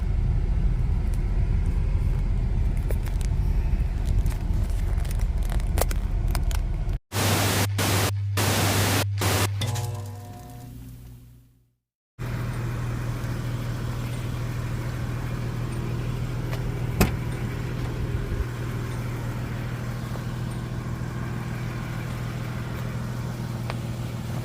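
A 1993 Nissan Pathfinder XE with a rebuilt V6 engine and rebuilt transmission idles with a steady low hum, half buried under heavy hiss and rumble. The sound drops out briefly partway through.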